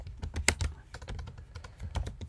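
Rapid, irregular keystrokes on a Mac computer keyboard, typed close up while entering a terminal command; the taps are crisp and continuous, with no talking.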